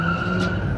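A Ford Fiesta ST skids at a car meet, its steady, loud tire screech and engine roar sustained without a break over a short stretch, with no talking.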